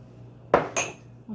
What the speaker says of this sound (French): ونخلط جيدا. Donc je mélange le tout.